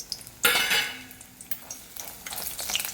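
Grated coconut being dry-roasted in a pan for a mutton masala, with a sudden burst of scraping stir noise and light sizzle that fades into softer scrapes and clinks of a spoon against the pan.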